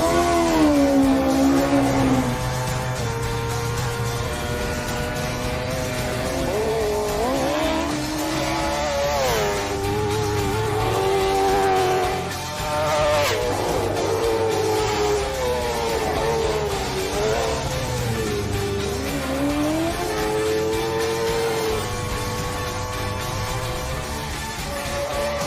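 A racing sidecar outfit runs at the Isle of Man TT, its engine howling loud and continuous as the pitch climbs and drops through gear changes. A few brief dips in revs break the sound, and traffic and crowd noise blend in underneath.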